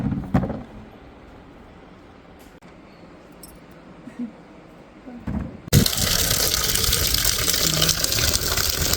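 Tap water gushes loudly over raw mangoes being soaked for pickle, starting abruptly partway through after a quieter stretch of faint household background, then running steadily and close.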